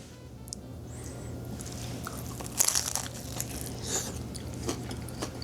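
Bites into a steamy, cheesy, meaty sourdough pan pizza, baked at home, give a few close crunches and crackly chews, with a sharp crackle midway over a low steady background hum.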